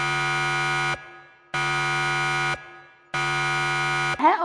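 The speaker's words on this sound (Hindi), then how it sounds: "घर का अलार्म बजता है" A house alarm goes off in the film Spy Kids Armageddon: three loud, sustained electronic buzzing blasts, each about a second long, with short silent gaps between them and a brief clatter at the end.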